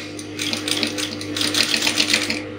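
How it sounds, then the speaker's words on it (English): Sewing machine stitching slowly through a busk in a Victorian corset top, a close, steady mechanical needle rattle with rhythmic pulses running throughout under a faint motor hum. "You can see that I'm sewing this slowly."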